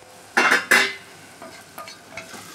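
A spoon stirs mutton botti (kudal) gravy frying in a pan with tomato, onion, curry leaves and garam masala, giving two loud scraping stirs followed by softer sizzling and lighter clinks.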